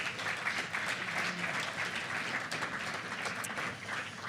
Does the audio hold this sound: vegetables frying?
no